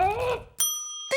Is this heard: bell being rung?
yes